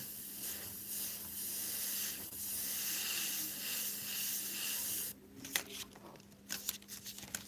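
An Iwata CM-SB airbrush sprays Createx paint, making a steady close hiss for about five seconds. The hiss then cuts off, leaving a few faint clicks and handling noises, with no talking.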